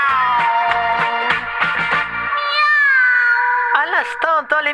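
In a French children's dance song, voices imitate cat meows, a series of sung meowing notes over music, ending with a few quick, sliding meows.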